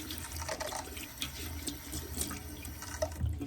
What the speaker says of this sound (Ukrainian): після того, як побраширували, я мию. Так, швиденько, не сильно намочую, щоб змити оцю всю пилюку